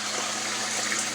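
Water gushes steadily into a crowded fish pond, a close, constant broadband rushing with no pauses or talking.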